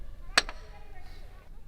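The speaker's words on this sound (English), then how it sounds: "When most rocks are struck, they release a dull sound like this." A rock in a Pennsylvania boulder field is struck once, giving a single short, dull knock that dies away almost at once, fairly close over a quiet outdoor background.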